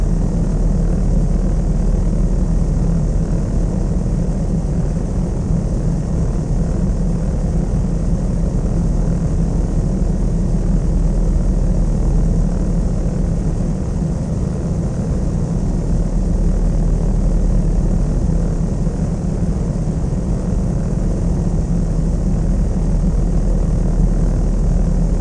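Piper Seneca twin propeller airplane droning steadily in flight over Kahului in Flight Sim World, a constant loud engine hum with a broad rumbling roar throughout, unchanging and alone with no voices.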